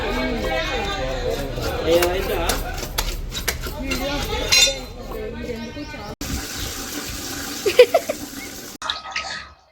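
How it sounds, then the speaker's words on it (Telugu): Crabs for a Bhimavaram-style crab curry are rinsed under running water in a pot, with splashing, gushing and clattering shells and metal, while people talk over it. "పది పది సార్లు పైన కడిగానండి ఇంకా ఇంకా కడుగుతా"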